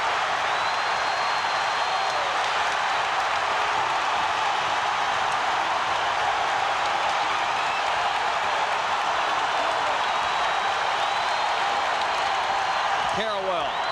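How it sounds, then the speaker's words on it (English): Basketball arena crowd at a North Carolina versus Duke game in 2000, a dense, loud, sustained roar of cheering that never lets up, with a commentator talking over it. "This crowd is going crazy."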